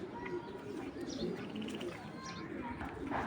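Soft, faint cooing drifts from a restless club racing pigeon being handled and shown off, low murmurs repeating over a few seconds with light background noise.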